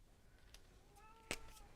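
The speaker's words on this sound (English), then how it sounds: "I don't know if you heard a cat meowing." A cat meows twice, faint and somewhat distant, the second call short and sharper, over a quiet room.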